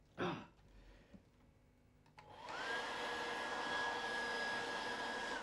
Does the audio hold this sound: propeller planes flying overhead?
no